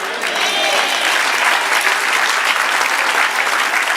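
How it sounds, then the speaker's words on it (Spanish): Loud, sustained applause fills a church service during a prophetic message, dense clapping from a congregation without pause. "Dale aplauso."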